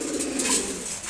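Giribaz pigeons coo steadily while feeding on their morning grain, a continuous low burbling that sounds close and fairly loud, with no voices.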